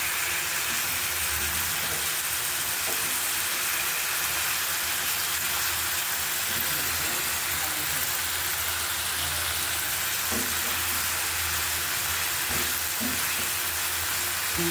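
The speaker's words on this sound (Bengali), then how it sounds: "সুন্দর করে রান্না করছি, তখন আমি একটু কষিয়ে নিচ্ছি।" Kochur loti (taro stolons) with a hilsa fish head sauté in a pan, giving a steady, dense sizzle throughout with a few faint clinks of stirring and no talking.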